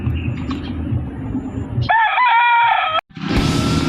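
A Black Boston gamefowl rooster, a one-time fight winner at a gamefarm, gives one loud, close crow lasting about a second, with steady background noise before and after.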